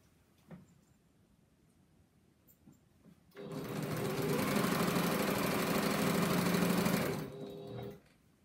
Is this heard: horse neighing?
no